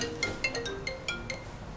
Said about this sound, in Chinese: 胡总啊，哎呦，这么一大早打电话，有什么吩咐？